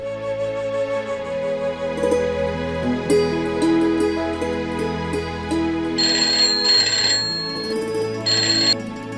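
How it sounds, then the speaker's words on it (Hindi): A telephone rings in a Hindi TV drama household, its electronic ringtone trilling in repeated bursts over a steady background music bed, fairly loud and close with no one speaking. "संतू, मेरा तेरा फोन है"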